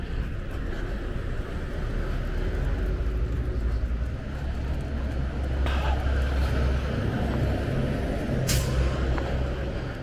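Big trucks idle and rumble on a Philadelphia street by a large church, low engine drone continuous throughout with sharp hissing air-brake bursts standing out near the middle and close to the end.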